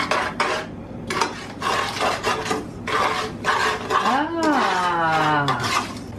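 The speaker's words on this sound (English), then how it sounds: "put in the 2/3 cup of milk and stir it all" A big spoon scrapes and clinks steadily against a bowl while milk is stirred into a tiramisu mixture, repeated close scraping strokes, with people talking over it.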